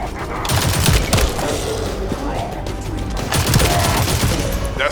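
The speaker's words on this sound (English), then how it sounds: "That stopped the gunfire." Rapid bursts of automatic gunfire rattle loudly in The First Descendant video game, with overlapping shots and booms, sustained for several seconds in a game-like battle.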